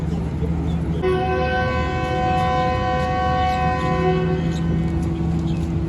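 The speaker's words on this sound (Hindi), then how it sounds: "तो अभी विसल होगा और हमारी ट्रेन रवाना होगी फिर।" The Pakistan Express sounds a long, loud, steady whistle for about three seconds as it prepares to depart Toba Tek Singh station, over a constant rumble of platform and train noise.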